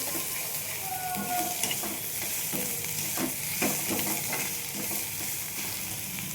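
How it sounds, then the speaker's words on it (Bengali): Green and red chillies fry in oil for a fish curry with raw mango, giving a steady close sizzle broken by regular scraping stirs, with no talk. "কাঁচা পাকা 4টে লঙ্কাও আমি দিয়ে দিচ্ছি, এর সঙ্গে ভেজে নেব ভালোভাবে"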